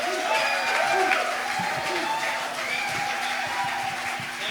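Church congregation applauding to welcome the pastor at an evening rally in Indonesia: a steady, dense wash of clapping from a crowd, sustained at even loudness throughout.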